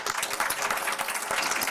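An indoor audience at a book presentation claps in a brief, dense burst of applause, many hands at once, steady and fairly close for under two seconds.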